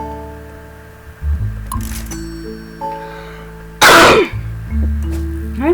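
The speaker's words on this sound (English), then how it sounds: "I'm sorry for coughing so much." A person gives a loud, harsh cough and clears their throat during the fishing video game Cat Goes Fishing, with steady game tones playing in the background.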